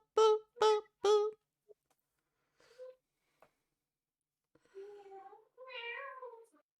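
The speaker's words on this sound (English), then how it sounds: "I heard a cat." A cat meows three short times in quick succession, then gives a few fainter, scattered sounds and ends with two longer, drawn-out meows, all against near silence.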